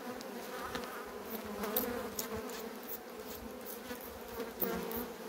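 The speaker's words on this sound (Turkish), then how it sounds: "Hemen hemen her çıtada bayağı bir arımız var." Honeybees buzzing steadily in an open hive during an oxalic acid treatment for varroa mites, a dense continuous hum close up with no talking.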